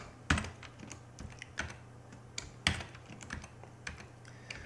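Typing on a computer keyboard, irregular close key clicks and taps with a few heavier strokes, quiet and alone.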